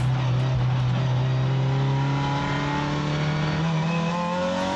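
Race cars accelerate off the start line, a loud close engine note climbing steadily in pitch with other engines roaring around it.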